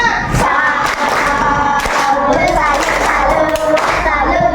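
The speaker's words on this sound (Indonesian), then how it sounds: "tepuk salam dulu buat temannya" Schoolchildren in an Indonesian classroom perform the tepuk salam greeting clap, several bursts of rhythmic hand claps in quick patterned groups, mixed with children's voices chanting along and a teacher's voice nearby.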